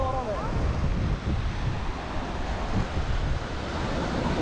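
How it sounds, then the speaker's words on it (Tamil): Sea waves roll in at Rameshwaram beach, a continuous washing roar of surf mixed with wind buffeting the microphone, fairly loud and unbroken, with a short tonal sound at the start. "ஃபுல்லாக அலை வருது."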